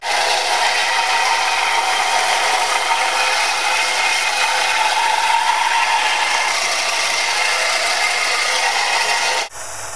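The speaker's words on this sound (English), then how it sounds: "could be ground down a little bit more on the belt sander and just cleaned up" A belt sander grinds a steel longsword blade with a loud, continuous, abrasive roar that holds steady for nearly ten seconds, then cuts off abruptly near the end.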